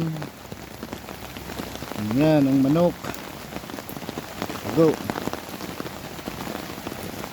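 Steady rain patters on a surface on a rainy afternoon, with a voice speaking briefly over it in the middle.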